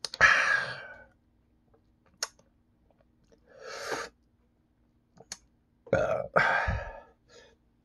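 Several loud, close burps after drinking Four Loko Gold, short separate bursts spaced by quiet pauses, with a pair of burps in quick succession near the end.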